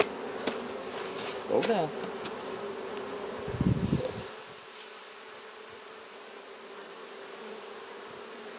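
A honeybee hovers close by, its steady droning buzz rising and swelling for a few seconds before fading out. A brief spoken word cuts in, and quiet background hum remains afterward.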